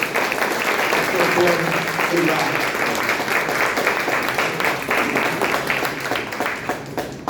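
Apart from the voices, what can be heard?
church congregation applauding loudly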